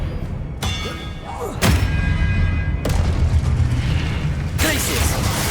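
A cast of the Expelliarmus spell in Hogwarts Legacy, heard as several sharp magical bursts and heavy thuds across the stretch over a dense rumbling game bed, fairly loud, with no one speaking.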